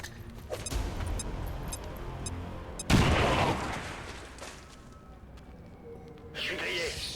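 Grenade explosion and gunfire in the video game XCOM 2: scattered shots, then a sudden loud blast that rolls off into rumble, with someone talking over parts of it.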